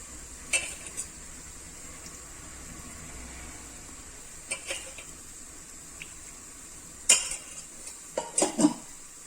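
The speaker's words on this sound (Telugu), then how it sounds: "ముందుగా ప్యాన్ పెట్టుకొని ఆయిల్ వేసుకుందామండి." A pan is set on a stove and oil goes in, bringing a few sharp metallic clanks and knocks of cookware against a quiet, steady hiss. The contacts come in scattered clusters, loudest near the end.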